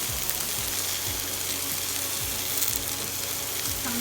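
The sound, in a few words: okra and seasoning added to a sizzling pot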